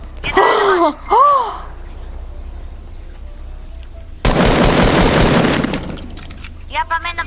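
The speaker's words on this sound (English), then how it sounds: "Mao, is someone shooting at you?" A loud burst of rapid gunfire rattles for about a second in the Fortnite battle royale video game, preceded by short vocal sounds and followed by quieter game noise.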